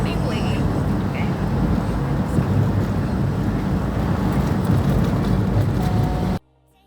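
A taxi pulling away, a loud continuous rumble of engine and road noise mixed with wind buffeting the microphone, ending abruptly in near silence.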